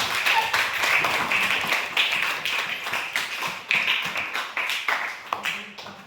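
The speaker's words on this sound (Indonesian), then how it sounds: "Beri tepuk tangan dulu" A classroom audience claps for a student group about to present, giving a steady patter of hand claps that fades slightly toward the end.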